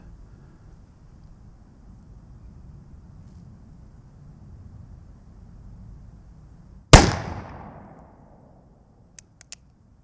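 An Uberti Bisley Cattleman blackpowder revolver firing one loud, sharp shot with a ringing decay after a quiet stretch, followed by a few soft mechanical clicks.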